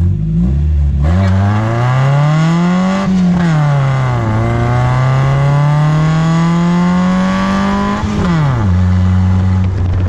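A Miata-engined kart's engine revs hard and loud up close, climbing in pitch, dropping abruptly at each gear change, then pulling again before a final sharp drop as it lands in fifth gear.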